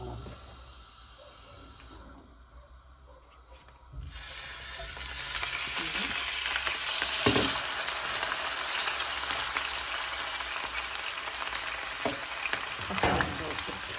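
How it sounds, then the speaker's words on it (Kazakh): Washed meat fries in about 150 grams of oil in a skillet, a quiet start giving way after a few seconds to a steady, close, broadband sizzle with occasional sharper pops. "Қуырып алайық."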